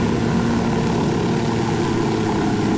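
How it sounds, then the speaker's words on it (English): A helicopter in the video game Ghost Recon Wildlands lands in a field very close by, its rotor and engine roar steady, loud and continuous with a dense low throb throughout. "a helicopter landing in a field very close by"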